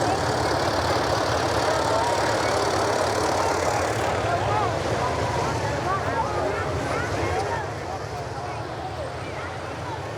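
An engine rumbles through an antique car and tractor parade at a strawberry festival, a steady low drone under crowd noise and talk that eases off slightly near the end.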